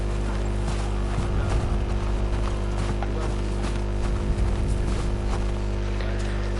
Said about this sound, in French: Ça, c'est un bon cheval.